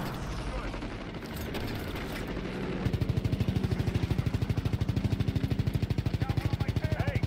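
Rapid automatic gunfire in the video game Call of Duty: World War II. A rumbling battle din opens the clip, then a fast, steady stream of loud shots starts about three seconds in and keeps going to the end.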